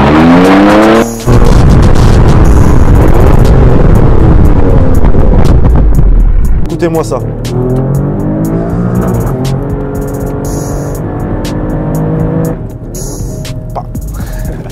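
Alfa Romeo Stelvio SUV fires up with a loud engine roar, then revs and pulls away under acceleration as the pitch climbs through the gears, close and dominant, with a brief spoken remark early on.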